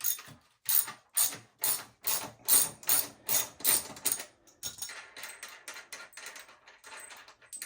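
A ratchet clicks in loud, evenly spaced strokes while loosening the wheel bolts on a supermoto, then switches to faster, softer ticking as the bolts come free.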